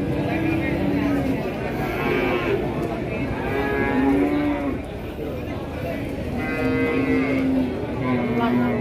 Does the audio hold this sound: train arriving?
no